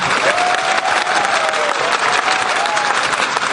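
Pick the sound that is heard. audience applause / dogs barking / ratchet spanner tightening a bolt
audience applause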